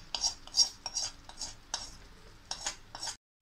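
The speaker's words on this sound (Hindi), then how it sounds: "तो इसी स्टेज पे हम पनीर को ग्रेवी के साथ मिक्स कर लेंगे।" A spoon clinks and scrapes repeatedly against a pot while marinated paneer is stirred into boiling gravy for shahi paneer, a rhythmic series of metallic taps and wet swishes, close and fairly soft, with no voices.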